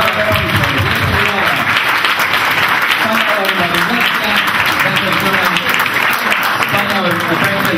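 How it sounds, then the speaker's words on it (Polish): Auction audience applauding after a lot is sold, a dense steady patter of clapping that runs the full length while an auctioneer's voice carries on over it. "Brawa serdecznie!"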